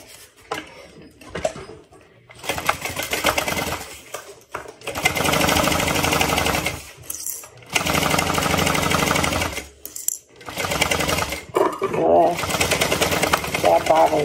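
A sewing machine stitches a 3/8 inch seam on a Sequoia bag, running loud and close in several long bursts with brief pauses between them. The motor rattles noticeably.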